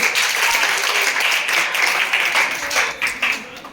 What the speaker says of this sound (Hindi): Very fine, Tali.